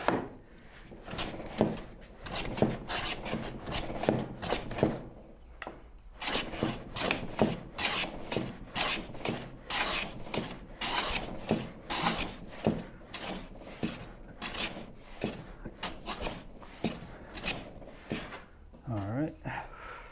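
A hand tool swipes repeatedly across wood while building a Shaker Enfield cabinet, producing close, dry rasping strokes in a steady rhythm for about twenty seconds, with short pauses between bursts.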